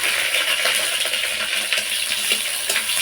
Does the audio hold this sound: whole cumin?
yes